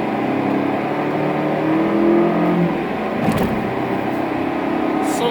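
Engine of a 2014 Volvo XC60 T6 at full throttle, a steady loud roar from inside the cabin holding level throughout, with a brief thump midway.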